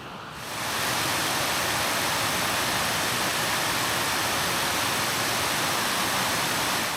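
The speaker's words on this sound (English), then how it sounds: "you can still hear the waterfall" Steady roaring rush of a waterfall where a river pours into a cave, a dense broadband wash that swells in during the first second and then holds loud and unbroken throughout.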